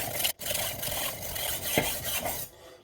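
A kitchen knife rasps back and forth across a sharpening stone in steady continuous strokes, close and moderately loud, with one brief pause and no talking.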